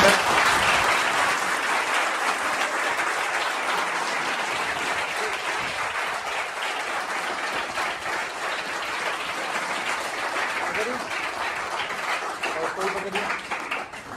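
Sustained crowd applause at a gathering congratulating student toppers in physics and chemistry, a dense steady wash of many hands clapping throughout, with voices faintly beneath.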